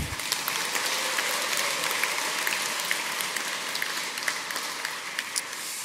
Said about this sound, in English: I think another round of applause for Nikki.